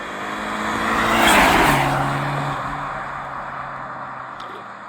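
A 2020 BMW G20 320i with stock exhaust in Sport+ mode revs and passes nearby, swelling in loudness then settling into a steady, moderate exhaust drone.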